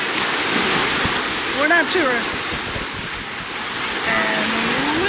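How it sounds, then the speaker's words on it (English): Ocean waves washing in at Indian Rocks Beach, Florida, around seven in the evening: a broad, continuous surf roar mixed with wind buffeting, and people talking over it. "One of the better beaches in Florida to come to."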